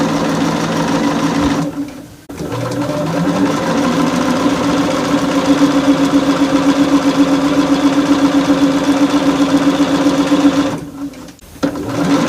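A sewing machine stitches a quilted autumn table runner with a steady, close mechanical whir and rapid needle clatter, running continuously and pausing briefly twice.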